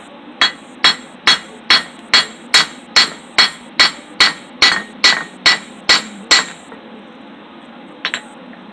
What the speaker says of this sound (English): I'm using my old anvil that I used to use. And I'll just hit it right there and I'll flatten it out.